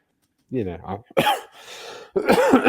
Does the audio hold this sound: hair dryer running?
no